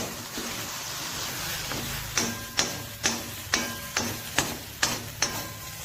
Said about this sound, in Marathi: परत एकदा हे व्यवस्थित हलवून घेणार आहोत